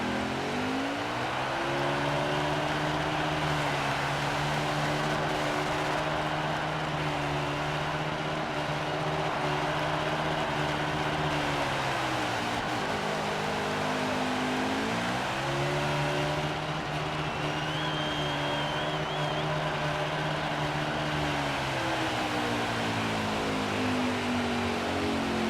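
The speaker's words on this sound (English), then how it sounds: "we're going to do our burnout here in front of all of our fans" A NASCAR stock car spins its tires in a burnout at Bristol in the game NASCAR Heat 5, a loud, steady engine drone held near the limiter with pitch dips and recoveries, continuous for the whole stretch.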